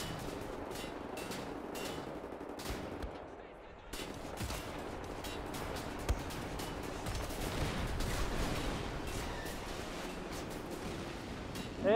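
Rapid gunfire in the video game Wolfenstein: The New Order crackles almost nonstop in dense bursts, with automatic volleys and single sharp shots over a noisy, rumbling background.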